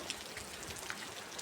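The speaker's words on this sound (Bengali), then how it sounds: "দেখুন ঝিরঝির করে বৃষ্টি পড়ছে।" Light drizzle patters steadily and softly, a fine continuous hiss with scattered faint drop ticks during a stormy day.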